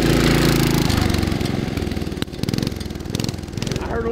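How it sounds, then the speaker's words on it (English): Small engine of a 1972 Sears Roper mini bike running close by with a rapid, buzzy putter, and a brief sharp pop of a small backfire partway through. "I heard a little backfire."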